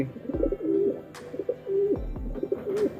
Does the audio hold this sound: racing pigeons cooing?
yes